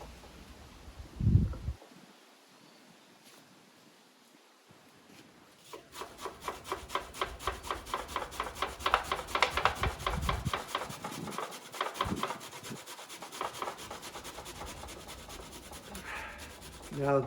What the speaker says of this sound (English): So we just grate that.